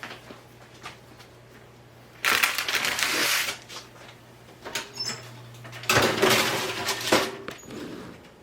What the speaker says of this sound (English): I'm going to put this in the oven.